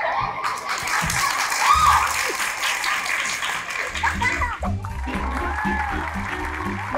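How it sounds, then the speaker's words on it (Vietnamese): A studio audience at a Vietnamese dating show bursts into loud, sustained applause mixed with laughter, and a host's voice speaks over the clapping near the end. "Một tràng pháo tay dành cho hai bạn này."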